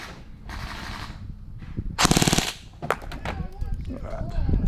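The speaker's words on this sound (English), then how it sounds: "fire some short bursts to see how the accuracy goes" An SLR Ion Lite gel ball blaster fitted with a Hellfire hop-up fires short bursts in close quarters: a buzzing rattle of rapid shots, then a louder, denser burst, followed by scattered clicks and handling noise.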